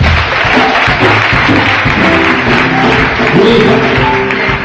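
A church congregation claps and cheers to acclaim God: a dense, loud wash of applause with voices shouting and singing mixed in, continuing steadily throughout.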